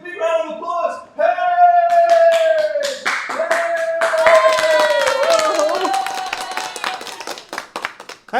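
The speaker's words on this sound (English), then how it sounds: "Give them a big round of applause." Studio audience at a live TV show breaks into applause mixed with loud whoops and cheering voices, sustained and energetic close to the microphone before thinning into scattered claps.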